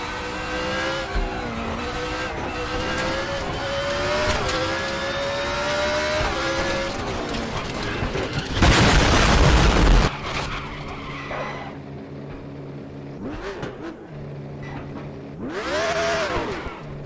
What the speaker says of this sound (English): I did end up having one major crash in this hill climb race